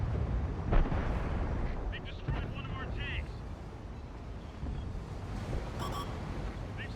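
A tank cannon firing in a tank battle game with the AMX 50 120, a single deep boom near the start over a constant rumbling engine and battlefield ambience, with a player talking.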